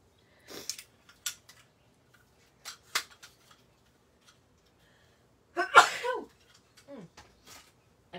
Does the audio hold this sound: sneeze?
yes